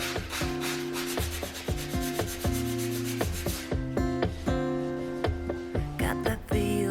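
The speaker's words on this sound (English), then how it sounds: "Give that just a little light sand and it's gone." A hand sanding block or paper rubs lightly over freshly painted wood in repeated short back-and-forth strokes, close and crisp, each stroke a brief scratchy swish in a steady rhythm, with music playing underneath.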